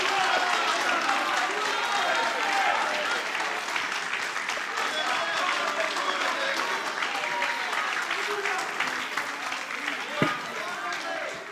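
A church congregation stands and applauds in worship, a loud sustained roar of clapping mixed with cheering voices that stays dense for the whole stretch.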